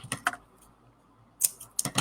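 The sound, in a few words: scissors cutting excess string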